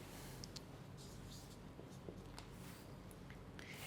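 Chalk or marker writing on a board during a mathematics lecture, faint scratchy strokes and taps in short irregular bursts over a quiet room hum.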